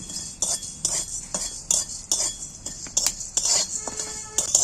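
Dry spices such as coriander, cardamom, cinnamon and chilli are stirred in a hot dry pan, with a rhythmic scrape and clink of a spoon against metal and a faint rustle from the toasting spices.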